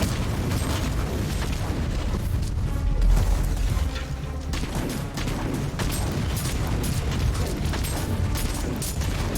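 Grenade launcher blasts in the video game Warhammer 40,000: Inquisitor, a continuous barrage of heavy booms and bursts, with one especially deep thud partway through, amid mechanical clatter and battle noise.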